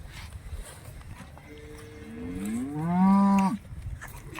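A single cow moos once, a long rising-then-falling low call close by, with quiet background before and after.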